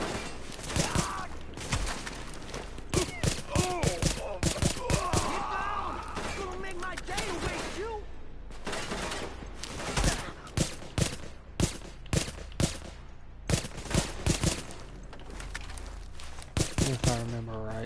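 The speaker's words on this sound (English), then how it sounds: "Which means I believe there's a named or light machine gun." Light machine gun fire in the video game The Division, rapid bursts of sharp shots in repeated volleys across the whole stretch, loud and close, with a voice talking between bursts.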